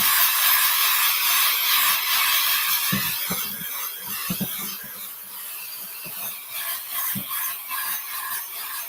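A hair dryer blows steadily on an art project, a continuous broadband whoosh that stays loud and close throughout, with a few soft knocks and handling clicks underneath.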